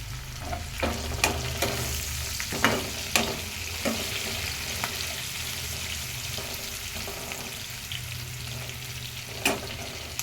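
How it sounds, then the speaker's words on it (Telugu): Onions frying in a pan with curry leaves and green chillies for an Andhra-style egg, drumstick and tomato curry, a continuous close sizzle broken by irregular clinks and scrapes of stirring. "ఆనియన్స్ అయితే ఫ్రై అవుతున్నాయండి ఇప్పుడు కొంచెం కరివేపాకు వేసుకుంటున్నాను అలాగే పచ్చిమిర్చి కూడా"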